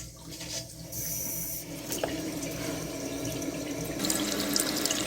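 Water rushing into a toilet tank through a Fluidmaster 400A fill valve, a steady hissing flow with a low pump-like hum, fairly quiet and continuous.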